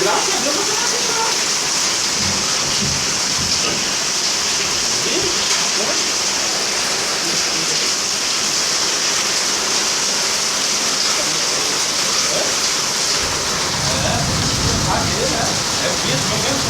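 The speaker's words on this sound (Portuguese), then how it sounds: "Que chuva" Heavy rain pours down in a dense, unbroken hiss that stays loud throughout, with a few heavier splashes and a low rumble building toward the end.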